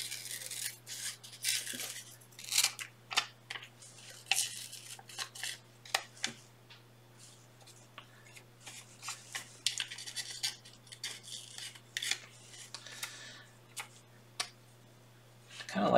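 Scissors snip through paper as a head shape is cut for a Bearden-style collage portrait, giving short, close, repeated crisp cuts and rustles in an irregular rhythm over a steady low hum.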